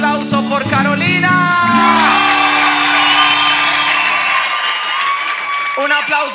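Crowd at a criollo dog beauty contest cheers, whoops and applauds for a winning entrant, a loud continuous roar of clapping and shouting with some tonal voices mixed in.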